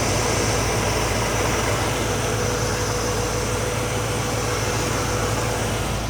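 A car engine fitted with a Holley carburetor runs steadily at close range, a continuous low droning rumble with a broad hiss on top, holding the same level throughout with no talk.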